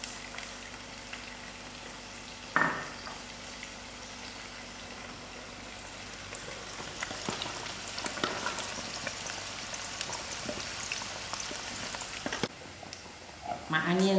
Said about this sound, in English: My onions are fried out